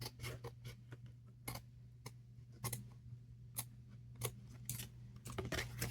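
Scissors trim paper for a junk journal, giving a series of sharp, close snips spaced irregularly over a low steady hum.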